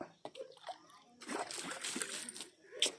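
Water splashes and patters onto soil freshly sown with vegetable and leafy-green seeds in a soft spray, with faint voices nearby and a sharper splatter at the end.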